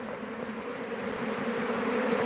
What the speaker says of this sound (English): these are the Apis mellifera scutellata